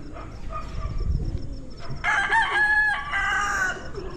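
A rooster crows loudly and close by, one drawn-out call in the second half after low clucking and farmyard background noise.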